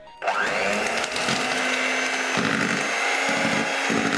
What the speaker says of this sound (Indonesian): Mixer dengan kecepatan paling rendah.